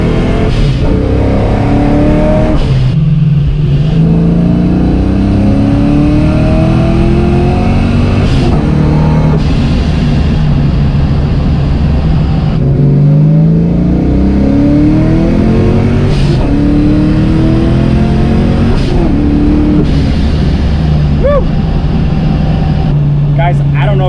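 Supercharged 700-horsepower Foxbody Mustang accelerating through several gears, engine pitch climbing in repeated sweeping pulls with brief drops at each shift, loud and close from inside the car, with people talking over it.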